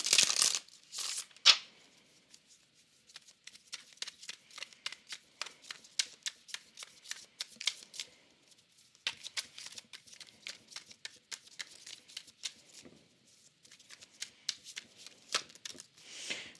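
Tarot cards are shuffled by hand, with papery riffles and rapid flicking snaps that continue almost nonstop at close range and moderate loudness, with no one talking.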